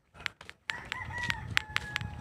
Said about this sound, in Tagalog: Dito yung mga alaga natin, mga manok.